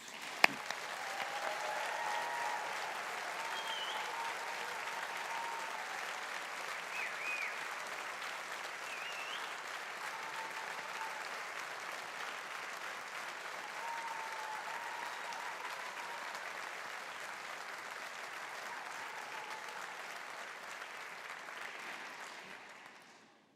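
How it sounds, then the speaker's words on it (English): A hall audience applauds graduates at a Faculty of Science graduation ceremony, a long, even roar of clapping from a large crowd that carries on steadily before fading out at the very end. "Let's give our graduates a big round of applause."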